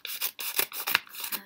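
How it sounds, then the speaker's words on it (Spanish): Scissors snip and rasp through a package in a few quick, close strokes, loud and alone with no talk. "voy a coger unas tijeras"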